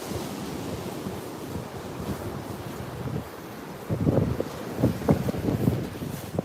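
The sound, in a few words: sea waves washing up the beach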